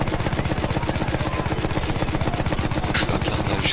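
Turret fire in the WWI shooter Battlefield 1, a rapid, steady burst of machine-gun shots rattling loud and close throughout without pause, with a brief higher hiss near the end.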